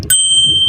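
A single bright bicycle-style bell ring strikes sharply and loud, then its clear metallic tone sustains evenly to the end, with no voices over it.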